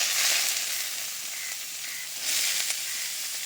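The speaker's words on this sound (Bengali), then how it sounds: "ঘিয়ে লাউটা ভেজে নিলে বেশ সুন্দর একটা সুগন্ধ বেরোবে" Bottle gourd frying in ghee in a pan, giving a steady soft sizzle with brief brighter swells, fairly quiet and close, with no talking.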